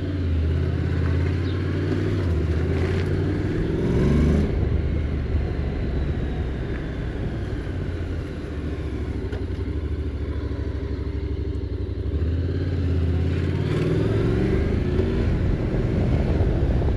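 A Honda motorcycle engine, NC750X or NX500, roars steadily close by while riding, its pitch rising and falling as the throttle opens, with wind rush throughout.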